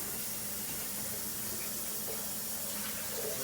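Tap water runs steadily into a cooking pot being filled to boil potatoes for potato salad, a continuous close hiss and splash with no talking.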